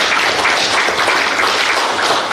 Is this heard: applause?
yes